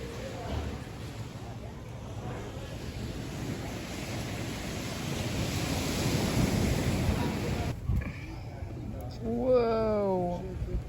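Surf rolls in steadily at a small beach bar in Bucerias, Mexico, a broad wash of waves and wind up close that cuts off near the end, where a voice takes over.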